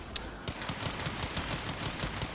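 Rapid repeated gunfire from the Akjagara pistols in the video game Warframe, a fast crackling string of sharp shots resembling firecrackers, fairly even in rhythm and moderately loud.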